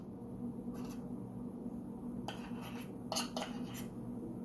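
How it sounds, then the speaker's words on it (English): A metal spoon scoops sticky peanut butter into a bowl, a few faint scraping clinks in short clusters over a low steady hum, close and quiet with no speech. "we're going to scoop the peanut butter into the bowl as well"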